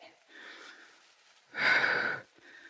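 Heavy breathing during a lunge workout: a soft drawn breath, then a louder, harsher exhale close to the microphone, with faint breaths around it.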